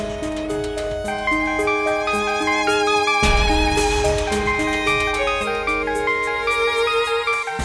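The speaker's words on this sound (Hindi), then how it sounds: "फोन बज रहा है आपका" A mobile phone rings with a bright, melodic electronic ringtone, a repeating tune of layered tones that plays loud and close without pause, with no talk over it.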